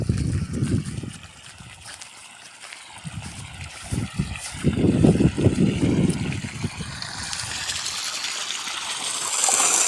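Water gushes and splashes from the two-inch outlet of a 3750 rpm DC motor pump lowered into a 60-foot well, an uneven rushing flow that swells and eases, close, with faint background noise.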